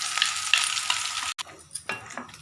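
Oil crackles and sizzles as a chutney tempering with mustard seeds is stirred, bright popping spatters that cut out briefly and then return with a few scraping stirs, close and with no voices.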